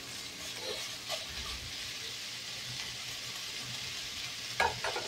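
Bone-in beef pieces for kaldereta sautéing in a pan, a steady soft sizzle with occasional stirring scrapes and a brief louder clatter near the end.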